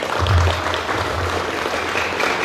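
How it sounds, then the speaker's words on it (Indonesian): Audience at a book discussion of a novel clapping on request, a moderate wash of applause with a low hum underneath, steady for a couple of seconds. "Tepuk tangan dong"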